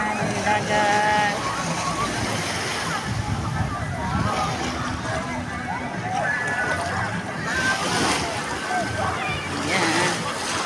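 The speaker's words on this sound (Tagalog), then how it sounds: "Yan, ang dagat." Sea waves slosh and wash at Marogondon Beach in Cavite, a broad churning water noise with surges that swell and fade, heard under voices talking nearby.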